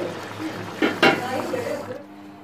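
Aloo keema curry ladled out of a cooking pot into a serving dish, with two quick metallic clinks of a spoon against the pot over a low kitchen hum.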